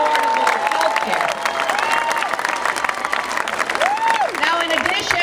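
A crowd of thousands at a Hillary Clinton rally in Alexandria, Virginia breaks into sustained applause and cheering, a dense continuous clapping roar with shouts and whistles rising above it, loud throughout.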